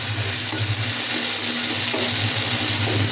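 Potato and pumpkin slices fry in hot oil, giving a steady close sizzle with low bubbling throughout and no voices.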